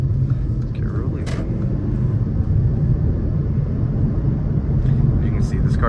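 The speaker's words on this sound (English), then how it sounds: "As you can see, this car does get up to speed pretty quickly." A turbocharged M270 engine in a 2016 Mercedes CLA 250 accelerates with a steady, close, low rumble heard from the cabin, with road noise and a few faint sounds over it.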